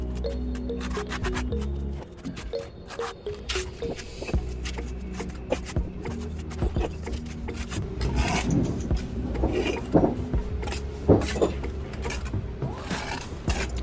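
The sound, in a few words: knocking on a wall to locate the studs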